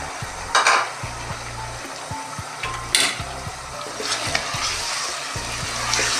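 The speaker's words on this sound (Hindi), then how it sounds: "इसको भी 2 मिनट तक भूनेंगे इस लहसुन अदरक के साथ" Chunks of meat sizzle in hot oil with fried garlic and ginger for a bhindi gosht curry, a steady close frying hiss broken by repeated low clanks and scrapes of a spoon stirring the pot.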